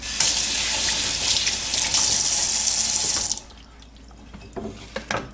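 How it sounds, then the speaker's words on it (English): Hands are rinsed under a running kitchen tap during tuna macaroni salad prep: a loud, steady gush of water for about three seconds, then it cuts off, leaving a few soft clicks and drips. "let me rinse my hands"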